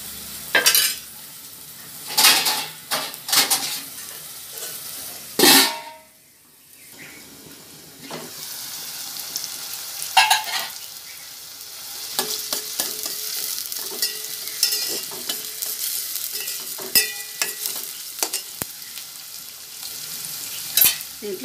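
Onions frying in a pan for seer fish curry, a continuous sizzle punctuated by loud clanks and scrapes of a utensil against the pan, with a brief quiet gap early on.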